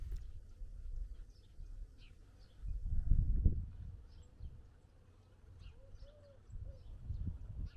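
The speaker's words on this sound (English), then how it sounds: "I hear some birds, and I hear all the little windmills and things spinning." Faint, distant birds chirp sporadically, with a soft cooing call, over low wind rumble in an open, quiet desert space near the Salton Sea.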